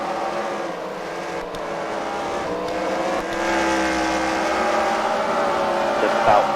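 Race cars in a heat race at the Freedom Factory track drone steadily, with engine whine rising and holding loud throughout and no break in the roar.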